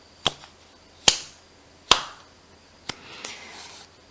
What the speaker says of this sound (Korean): 로즈가 손을 올려 천천히 박수를 쳤다.